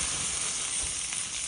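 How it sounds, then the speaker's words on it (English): Smoked ribeye steak sears on a hot grill, giving a dense, steady hiss that stays loud and close for the whole moment. "I'm going to put it on the grill and give it a really good sear for about 1 minute"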